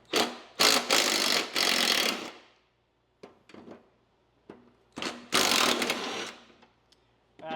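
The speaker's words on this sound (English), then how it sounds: "So you need a 3/8 socket to get these off." A 3/8 socket wrench works bolts off a Cub Cadet mower deck in short bursts of rapid ratcheting clicks separated by pauses, close and fairly quiet.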